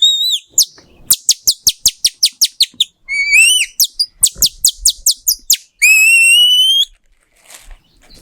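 A nightingale sings close and loud, with rapid runs of sharp repeated whistled notes, rising slurred phrases and a long buzzy trill, separated by brief pauses.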